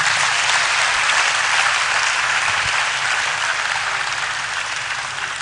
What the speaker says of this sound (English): please let's give them a round of applause again